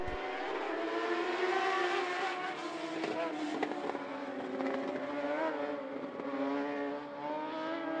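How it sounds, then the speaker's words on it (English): Modlite modified race cars at I-75 Raceway drone around an oval track at green-flag racing speed, a dense, steady engine roar heard from a distance. "Alan Van Wy, Randy Fly, leading the field out of turn four to green flag racing."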